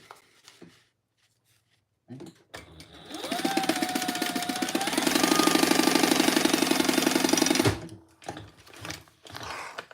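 A sewing machine stitches a large slip pocket, starting up after a quiet pause into a fast, loud, steady mechanical chatter for about five seconds before stopping, with light handling noises around it.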